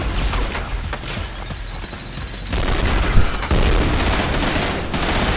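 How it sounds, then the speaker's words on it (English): Gunfire in the first-person shooter Trepang 2, with dense rapid bursts of shots and impacts layered over loud, busy game noise that swells partway through. "Here I am shooting up these poor people."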